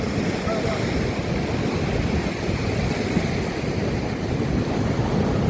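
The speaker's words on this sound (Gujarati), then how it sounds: "અને આવી ગયા છીએ આ બાજુ સોમનાથ દરિયા કિનારે" Sea waves wash continuously along the Somnath seashore, a steady broad roar blended with wind buffeting the microphone, with no clear breaks and no one speaking.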